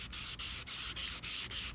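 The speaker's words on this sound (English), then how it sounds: "I did put some water on here, so just start sanding." Steady, even strokes of a sandpaper block wet sanding a car headlight, about seven back-and-forth passes with brief gaps, close and clear with no talking.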